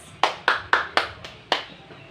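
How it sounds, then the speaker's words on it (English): A classroom gives itself a round of applause: six sharp, evenly spaced claps in quick rhythm, close and clear, with no talking over them. "Let us give ourselves a round of applause."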